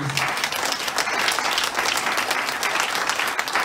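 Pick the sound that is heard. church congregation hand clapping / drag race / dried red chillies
church congregation hand clapping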